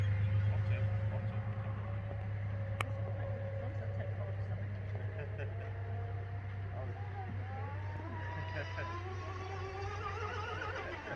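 A 1/8 scale vintage Notre Dame model hydroplane running at almost full throttle, a steady distant engine drone with wavering, rising pitch as it moves over water, while people talk nearby.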